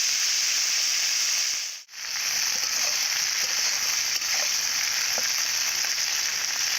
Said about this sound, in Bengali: ঢ্যাঁড়সগুলোকে 2 মিনিটের জন্য ভেজে নেব এইভাবে।